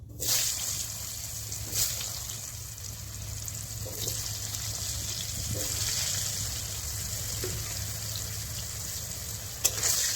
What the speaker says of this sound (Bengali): আলুগুলোকে আমি হালকা লাল লাল করে ভেজে নেব।